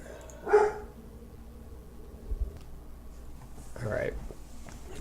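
Household dogs barking in short bursts, a couple of muffled barks a few seconds apart, fairly faint behind a quiet room with a voice talking.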